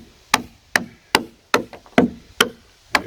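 Cut wood pieces being knocked out during cabin building, heard as seven sharp, evenly spaced wooden knocks, close and loud, each with a short ringing decay, with no talking.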